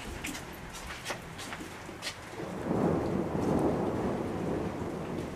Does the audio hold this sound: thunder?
yes